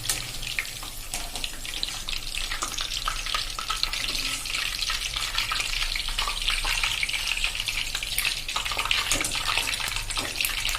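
Stuffed brinjal bhajiya fry in hot oil with a steady, dense sizzle and crackle that holds loud and even throughout. No voices are heard.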